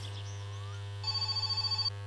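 A phone rings in My Summer Car during an engine build, a short burst of rapid electronic trills after a faint whistling tone, clear and alone over a steady low hum.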